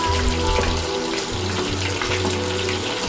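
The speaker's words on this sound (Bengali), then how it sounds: "এপিট ওপিট ভালোভাবে ভেজে নিতে হবে।" Chicken lollipops coated in crushed biscuit crumbs deep-frying in hot oil, a steady dense crackling sizzle that holds throughout at close range, with no voices over it.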